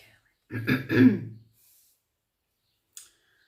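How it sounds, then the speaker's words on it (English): A single rough throat-clearing cough, close and fairly loud, followed by silence and a faint click. "I'm sorry I'm coughing"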